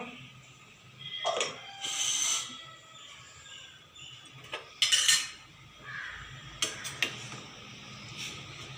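A vegetable kootu stirred in a pot, with intermittent scraping bursts and metallic clinks of a spoon against the vessel over a quiet background, close by and without speech.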